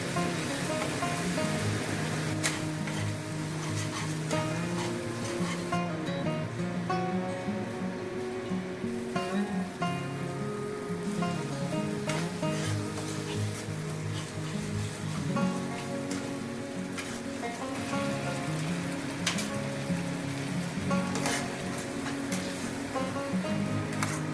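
Ground turmeric, chilli, cumin and coriander fry in a pan as masala for plantain kofta, giving a steady, soft sizzling hiss that runs unbroken throughout at a moderate, even level.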